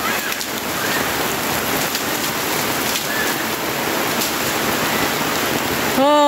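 Heavy typhoon rain pours steadily in a dense, continuous hiss, loud and close throughout, with a brief tonal sound cutting in at the very end, in Juban, Sorsogon, Philippines.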